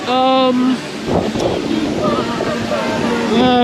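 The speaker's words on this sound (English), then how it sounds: "it's so windy" Strong wind buffets the microphone at a theme park, a loud continuous rushing roar throughout, with a voice speaking over part of it.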